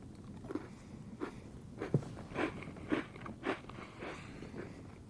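Several crisp crunches of a malted milk biscuit being bitten and chewed up close, irregularly spaced and fairly quiet, with no talking.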